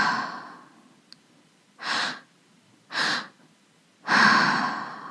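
Breathwork breathing: after a faint breath trailing off, two sharp inhales through the mouth, into the belly and then the chest, are followed by one longer exhale out of the mouth. Each is a close, breathy rush separated by short silences.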